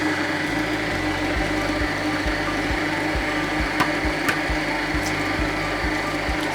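An electric mixer whirs steadily through vanilla cake batter, with a continuous motor hum, a rhythmic low thumping from the beaters and a few brief clinks.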